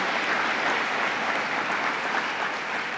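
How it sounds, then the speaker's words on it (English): Audience applause at a New York governor's press briefing on higher education funding, a dense, even wash of clapping with no talk over it. "Let's give a round of applause to Steve DeMayo, Mohawk Valley Edge."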